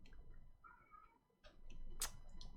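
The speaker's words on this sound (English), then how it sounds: "our cat is giving his cheers to all the players. Loud meows." A pet cat meows indoors, a drawn-out mid-pitched cry followed by shorter calls, moderately close against faint room noise.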